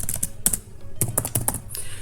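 Java code being typed on a computer keyboard, irregular bursts of sharp close key clicks with brief pauses between them, no voices.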